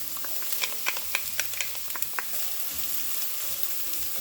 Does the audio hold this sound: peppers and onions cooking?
yes